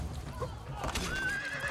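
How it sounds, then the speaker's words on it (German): A horse neighs in the video game Assassin's Creed Brotherhood, a rising whinny over busy game ambience with someone talking over it. "Ey, lass mein Pferd in Ruhe."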